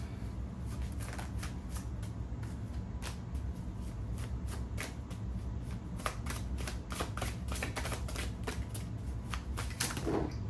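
Tarot cards are shuffled continuously by hand, giving a steady run of dense riffling flutters and soft slaps that stays close and fairly loud throughout.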